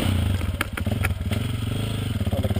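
A KTM 200 dirt bike runs along a ridgetop trail near Chimney Rock in Sierra County, its mid-pitched engine droning steadily and close, with a few sharp clatters from the chassis over rough ground.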